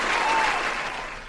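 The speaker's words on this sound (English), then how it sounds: "round of applause" A short burst of applause, a steady wash of clapping that slowly tapers off, with no voices over it.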